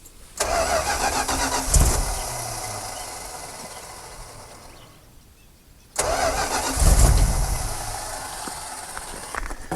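An old Dodge Power Wagon truck engine, out of fuel, cranks over twice with a starter whir, each attempt grinding for a few seconds without catching, separated by a brief pause.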